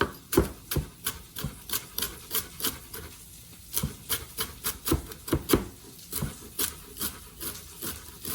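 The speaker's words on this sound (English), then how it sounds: "what I'm going to do is just kind of mince it up." A knife mincing small pieces of crock-pot pork shoulder roast on a cutting board, a quick rhythmic series of sharp, close chops and taps continuing steadily.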